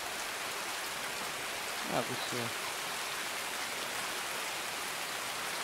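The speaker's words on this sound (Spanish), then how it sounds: "llueve" Steady rain falls in the Escape from Tarkov video game, a dense continuous hiss of drops on surfaces, and someone speaks briefly in Spanish partway through.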